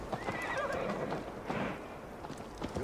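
A horse neighs in Assassin's Creed Valhalla, a wavering whinny over steady clip-clopping hooves and a low rumble of movement, moderately close.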